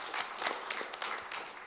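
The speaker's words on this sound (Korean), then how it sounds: "하나님께 영광의 박수 올려드리겠습니다." A church congregation claps in a short burst of applause during a Sunday worship service, scattered hand claps merging into soft, moderately distant clapping.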